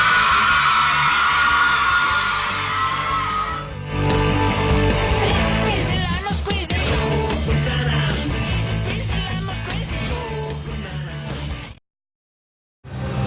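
Crowd at an Italian basketball arena, Orzinuovi versus Sestu, roaring, yelling and whooping loudly and continuously over loud music before cutting to near silence at the end.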